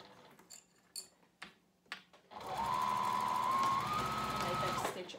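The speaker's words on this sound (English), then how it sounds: "I'm going to sew over my loop closure" A sewing machine runs in one sustained burst, stitching over the loop closure of a fabric foldover pouch after a few light clicks and handling taps.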